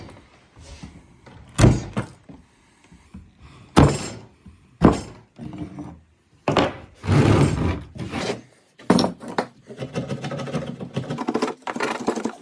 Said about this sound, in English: But this one I am gonna sand it.